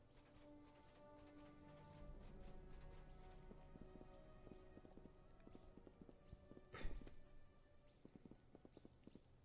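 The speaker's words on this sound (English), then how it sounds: "I love the sound that horses make when they run across this, because it's like their horseshoes are clacking against the bamboo." Horseshoes clack across a bamboo surface in a rhythmic series of hollow, sharp hoof strikes, moderately near, with faint insect chirping behind and one louder knock near the end.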